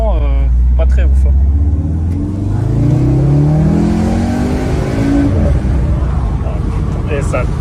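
A tuned Volkswagen Golf 7R engine, 360 hp, revs up and pulls hard, pitch climbing steadily as it accelerates, loud and close, with people speaking over it.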